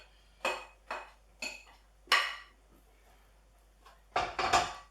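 Squid tipped back into a pan of sun-dried tomato and rocket risotto, heard as a run of sharp utensil-on-pan clanks and scrapes, four spaced hits followed by a cluster of quick, louder clatters.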